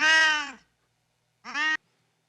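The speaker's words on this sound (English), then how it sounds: "a cat." A cat meows twice as a sound sample, a long clear meow followed by a shorter one after a pause of silence.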